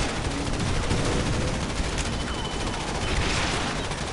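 Gunfire in the real-time strategy game Command & Conquer 3: Kane's Wrath rattles on continuously, a loud dense barrage of rapid shots with no pauses.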